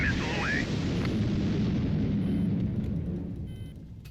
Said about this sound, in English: All I've got is nukes.